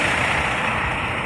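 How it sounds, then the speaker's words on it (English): A steady, loud roar of heavy truck traffic and engine noise beside Interstate 10 in Fontana, California, continuous and broadband, like standing beside a busy highway. "Truck in the background's getting on over there."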